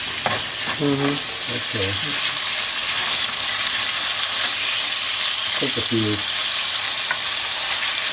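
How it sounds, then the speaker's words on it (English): Greens stir-fry in a frying pan with a steady close sizzle and crackle throughout, while someone speaks a few brief words over the cooking. "what they call stir fry"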